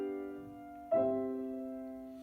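Two sustained chords, tonic moving to a supertonic seventh in third inversion, ring softly and alone, the second struck a little louder and left to fade slowly.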